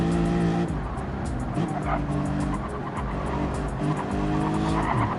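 Race car tires squeal through turn 12 at Barcelona under loud, continuous engine roar, the screech rising and falling as the cars work through the corner.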